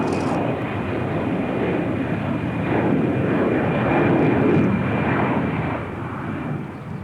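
A light aircraft near an Alaskan airstrip gives a steady, loud engine drone and rushing roar that swells in the middle and eases slightly toward the end, with no talk.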